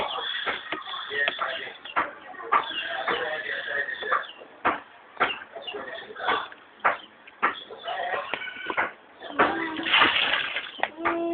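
Water splashes and sloshes in bursts, with a voice shouting and talking throughout, the splashes coming in uneven clusters close by.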